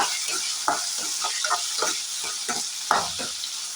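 Mustard seeds, chana dal, chillies and curry leaves tempering in hot oil, a continuous bright sizzle broken by repeated crackling pops and spatters, close and fairly loud with no speech.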